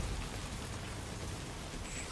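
Rain falls steadily in Death Stranding 2, a soft even hiss of drops on surfaces that stays faint and continuous over a short stretch, with no voices.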